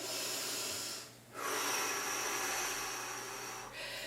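Steady, breathy exhalations during a post-HIIT glute stretch in a cardio workout, soft and close, with one short pause partway through.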